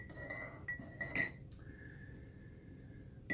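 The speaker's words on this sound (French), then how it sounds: "que je mélange avec l'eau chaude et avec le citron" A spoon clinks against a glass while stirring honey into hot water and lemon for grog, a few bright taps and rings, one sharp strike, then a fading metallic ring, close and quiet.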